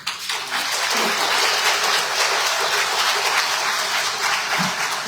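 Sustained applause from an audience at a school board meeting, a dense steady clatter of clapping hands lasting throughout, fairly loud and close.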